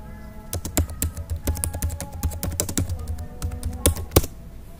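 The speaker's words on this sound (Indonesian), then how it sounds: "kita ketikkan coba di sini" Fingers type on a computer keyboard, a rapid irregular run of crisp close keystrokes with a few louder taps, heard alone without talking.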